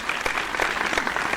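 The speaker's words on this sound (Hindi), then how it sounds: "एक बार जोरदार तालियां।" Loud, steady applause from an audience at an Ujjain kavi sammelan poetry gathering, dense clapping sustained evenly from start to finish with no talk over it.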